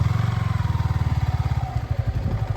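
A motorcycle pulls away on a muddy road on the way to a waterfall, its engine thumping in a fast, close, loud putter that loosens and becomes rougher as it moves off.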